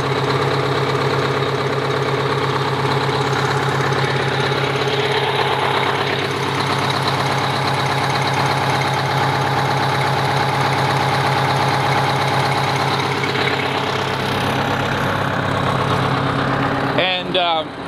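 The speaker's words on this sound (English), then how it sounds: "That is a cold start with no ether, no glow plugs, good old Detroit diesel." Detroit diesel engine in a motorhome built on a Neoplan Cityliner chassis idles after a cold start with no ether or glow plugs, a loud, steady, close clattering drone that runs throughout with a faint knock.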